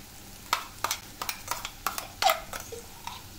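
Spoonfuls of ground masala paste going into a hot pan for Veg Kolhapuri, a string of scraping stirs and soft sizzling bursts, close and clear with no talk.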